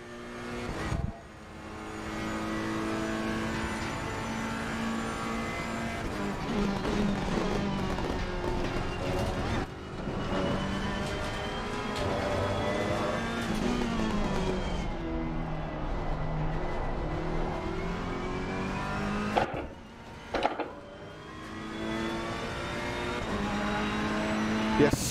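Ferrari race car lapping the Nürburgring in a racing video game, its engine revving up through gears with rising whines, dropping on shifts and braking, continuous and fairly prominent throughout.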